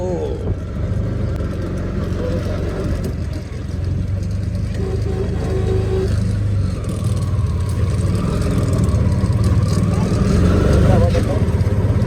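A CNG auto-rickshaw engine drones loudly and steadily as it drives along a road near the Bangladesh–India border, with a slight rise in pitch toward the end and voices murmuring beneath it.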